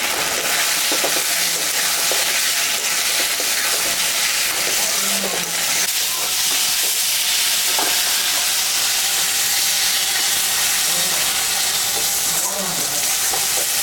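Spices and tomato fry in a pan for a singhi fish curry, giving a steady, dense sizzle that runs throughout with light stirring clicks and scrapes layered on top.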